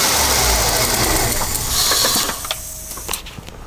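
A Ford EF Falcon engine idles roughly and stumbles, a loud close mechanical rumble with uneven ticking that sags and fades toward the end as the engine begins to die.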